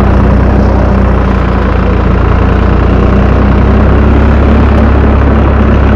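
A Same tractor engine runs steadily while pulling a Parlayan 2000-litre sprayer through an olive orchard, a loud, constant low drone with a fixed rumbling pitch and no pauses or speech.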